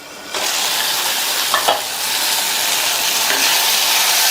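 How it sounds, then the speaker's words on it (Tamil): Tomatoes sauté in a pan for a pachadi side dish, a steady bright sizzle that starts abruptly, with brief scraping stirs midway, close and continuous, without speech. "தக்காளி வதங்கி வரட்டும்"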